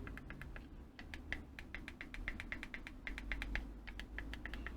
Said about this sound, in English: On this particular one, you've actually got the little popper switches as well,